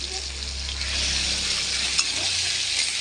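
A ginger paste and cumin paste spice mix fries in hot oil with a loud, continuous sizzle, stirred as it cooks, steady and close throughout.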